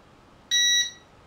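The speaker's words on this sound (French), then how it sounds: "votre drone clignote, vous entendez un bip, vous relâchez" One short, shrill electronic beep from a Song Yang X31 drone during gyroscope calibration, a clean steady tone lasting about a third of a second against quiet background, close and loud.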